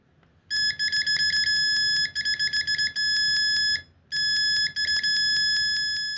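A cheap Thsinde 18C multimeter's beeper sounds at maximum output, a loud, shrill electronic tone in long latched bursts with brief gaps, close to the microphone.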